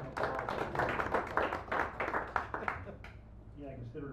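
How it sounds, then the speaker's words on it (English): A small café audience at a San Francisco poetry reading gives a brief round of scattered handclaps that fades out, followed by a voice beginning to speak. "Why don't we give Dan a nice round of applause for all the hard work he does."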